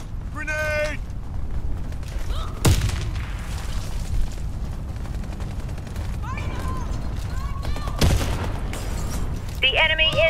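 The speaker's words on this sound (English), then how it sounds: "Grenade!" Two sharp, heavy blasts from grenades in Warface multiplayer on Xbox Series X land several seconds apart over steady background game noise and mechanical clatter.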